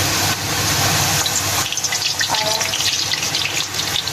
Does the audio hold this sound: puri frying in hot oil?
yes